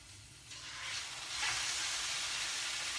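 Chicken cooks in a pot over a high flame, giving a continuous frying sizzle and hiss that swells slightly and holds steady, close and moderately loud with no talking.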